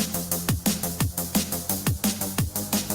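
Bass line in Ableton pumping under a kick drum, ducking in a steady four-on-the-floor rhythm with clear swells between each thump, house or techno style, loud and upfront with no talking.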